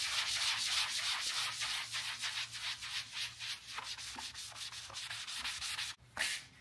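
Polish rubbed by hand onto a car headlamp, a close, rhythmic rasping scrub in quick back-and-forth strokes, ending with a brief pause and a final stroke.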